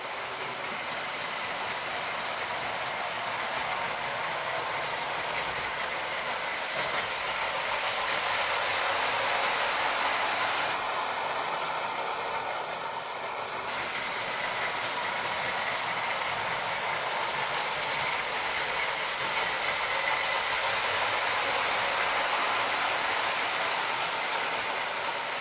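A small Lionel General tinplate toy train pulling circus cars rattles and whirs continuously around its track for a long stretch, a steady mechanical clatter that swells and fades slightly.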